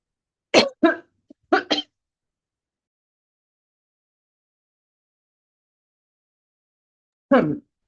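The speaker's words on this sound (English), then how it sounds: "I'm going to cough." Several short coughs in quick succession, then a long silence before one more cough near the end.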